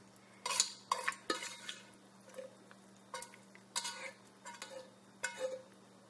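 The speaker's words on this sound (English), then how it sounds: "Just going to mix those in as well." Close scraping and clattering of a utensil mixing cooked pasta into a taco casserole in a dish, in a series of irregular strokes with brief pauses between them.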